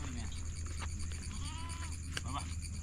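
Goats bleat outdoors among herders at Chalassery Kurisuppara near Thodupuzha, a few faint, wavering cries heard at a distance over a steady low rumble of wind.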